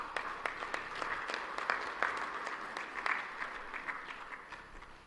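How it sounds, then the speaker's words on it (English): Scattered, moderately faint applause from guests at a summit opening ceremony, a loose patter of individual claps that thins out toward the end. "May I please request that we have 2 rounds of applause for our co-chairpersons for those statements."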